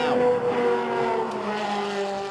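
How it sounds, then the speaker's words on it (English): Ferrari 360 Challenge Stradale engine howling at high revs on a track, a loud sustained wail with rising and falling harmonics as the car shifts, alone with no talk. "That was specifically the Ferrari 360 Challenge Stradale. Best engine sound of the year."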